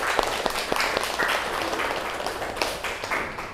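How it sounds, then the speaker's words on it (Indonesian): A classroom audience applauds a group presentation in an Indonesian school session, dense clapping close by that holds steady for a few seconds. "Ayo kita aplaus untuk kelompok 2."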